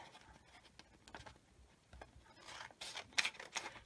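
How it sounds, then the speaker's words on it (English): Scissors snip through a sheet of vellum paper in a quiet room, giving soft crisp cuts and light rustling that build toward a few sharper snips near the end. "what I want to do is cut this vellum"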